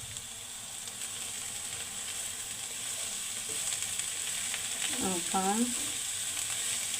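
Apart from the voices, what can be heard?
stirring pennywort leaves sizzling in pan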